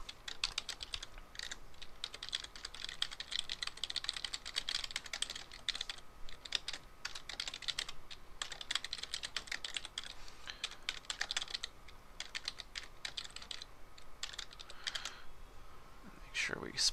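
Steady, rapid typing on a computer keyboard while entering a network location address, with dense, continuous keystroke clicks running throughout at a modest, close-up level and no talking over them.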